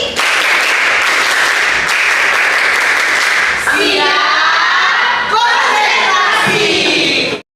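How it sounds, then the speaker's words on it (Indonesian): A class does rhythmic concentration clapping together in quick bursts, loud and close, with children's voices calling out between the rounds of clapping. "Kita ada yang namanya tepuk konsentrasi."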